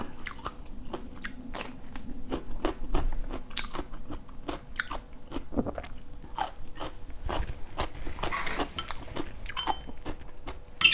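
Crunchy bites and chewing of fresh garden chili eaten with pork belly larb, a series of sharp close crunches repeating irregularly throughout with no talking.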